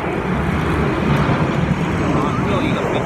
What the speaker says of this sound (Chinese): 啊，又一个飞机下降